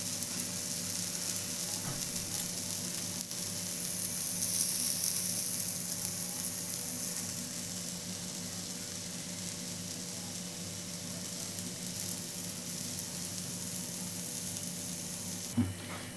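A mango amboli, a rice pancake made with ripe mango, sizzles steadily as its underside roasts in a hot pan. The hiss is continuous and close, with one brief clatter near the end and no talk.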